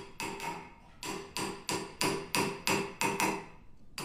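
A flat circle of silver being raised into a beaker takes repeated metallic hammer blows over a shaped former, about nine sharp ringing strikes in a steady rhythm, close and clear with no talking.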